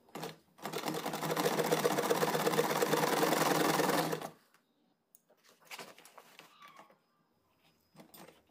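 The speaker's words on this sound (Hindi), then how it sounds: "मैं तो मशीन से सिल रही हूँ" A sewing machine stitches a fabric table mat with a steady, rapid whirring run of about four seconds. Scattered clicks and handling noises follow once it stops.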